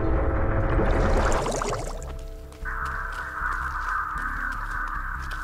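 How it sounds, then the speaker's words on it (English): Crows caw in a video game, marking a set piece on the map; the calls come loud at the start over a dense noisy bed, then fade as a steady tone and ambient game sound take over. "So the crows cue on this set piece, which alerts everybody on the map that somebody is around that set piece"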